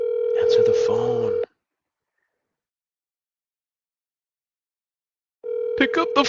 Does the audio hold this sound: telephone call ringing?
yes